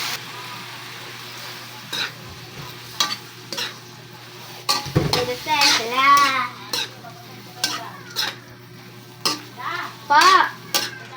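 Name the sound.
butter shrimp being stirred in a pan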